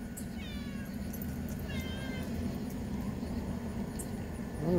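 A cat meows twice, thin high cries rising and falling over a steady background hiss, fairly close.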